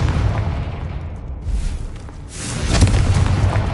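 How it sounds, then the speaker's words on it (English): Confringo fire spell in Hogwarts Legacy hitting spider sacks, heard as a rumbling series of booming explosive bursts, the loudest near the end. "Confringo."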